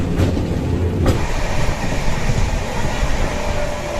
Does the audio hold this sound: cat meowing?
no